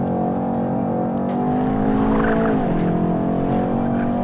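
A 2017 Mercedes-AMG E63 S with all-wheel drive, in race mode, accelerates too early and slides: a loud, sustained engine drone with a wavering pitch shift as the tires squeal through the slide.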